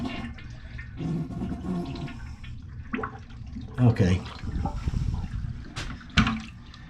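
Water running and rushing into the tank of a toilet that leaks from the base, a continuous close splashing flow with a few knocks and clunks, while a person speaks briefly.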